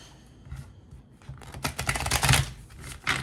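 A deck of reading cards is shuffled by hand, giving a quick riffling flutter that builds to a louder burst of close card noise, then a short final flick.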